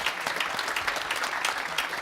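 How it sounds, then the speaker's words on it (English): An audience claps warmly and continuously at a Federal Reserve Bank of Chicago Money Smart Week event, a dense, even burst of many hands filling the room. "So please join me, give me a hand clap for those good people."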